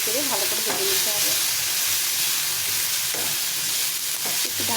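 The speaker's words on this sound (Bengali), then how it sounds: "দিয়ে এটাকে নেড়ে চেড়ে ভালো করে ভেজে নিতে হবে" Leftover roti mixture is stirred and fried in a pan, a loud constant sizzle with scraping stir strokes and faint voices or clatter in the background.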